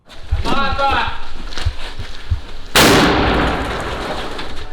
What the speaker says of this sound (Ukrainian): Під звуки петард, слугували вибухівками